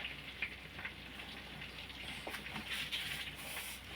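Leaves fry in oil for homemade hair oil, a soft continuous sizzle with scattered bubbling pops, fairly quiet and steady, with no voices.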